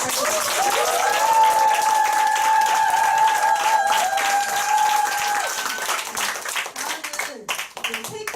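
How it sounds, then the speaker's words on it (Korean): Audience applause at a company group meeting and awards ceremony fills the room steadily for about six seconds, then thins into scattered claps, while a voice carries over the crowd and a sustained tonal sound hangs beneath the clapping. "강구희 사장님께 다시 한번 큰 박수 부탁드립니다."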